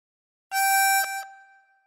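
One blown harmonica note on hole six, bright and reedy, held for under a second, then a quick shift and a fading tail, heard alone.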